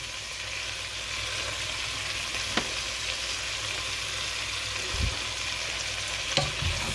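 Butter and flour sizzle in a hot pan while being stirred for beef bourguignon, a steady frying hiss broken by a few faint scrapes and taps of a utensil, with no voices.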